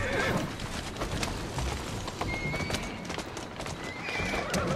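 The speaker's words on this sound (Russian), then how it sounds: "повозку мы взяли далеко не самую быструю, но это большую и громоздкую" A large, heavy horse-drawn carriage in the video game Assassin's Creed Syndicate rolls on with steady clip-clopping hooves, and a horse whinnies at the start and end over continuous rumbling street noise.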